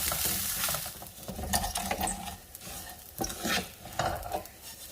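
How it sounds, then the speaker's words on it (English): Basmati rice is stirred and toasted in a hot pan, giving quiet sizzling and repeated scraping strokes of a utensil at close range, with no talking. "And now I'm going to toast my rice."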